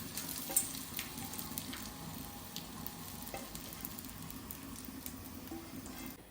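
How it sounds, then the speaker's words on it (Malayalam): Grated coconut frying in hot oil for a sambar, making a quiet, steady crackling sizzle with small pops and occasional light stirring. "നമുക്ക് ആ എണ്ണയിലേക്ക് തേങ്ങ ചിരകിയത് രണ്ട് പൊടി ഇട്ട് കൊടുക്കാം"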